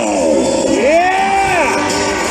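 Crowd at a 2016 rodeo in Sonoita cheering and whooping loudly, with rising shouted calls and cries layered over a steady roar of voices close by.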